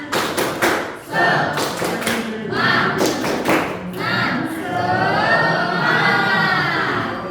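A group at a teacher coaching session claps out a quick rhythmic pattern in unison, then breaks into a loud collective shout and cheer.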